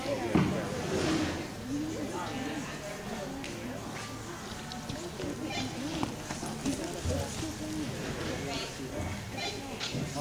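Horses clip-clop at a steady walk under a voice talking, the hoofbeats fairly close amid general outdoor bustle.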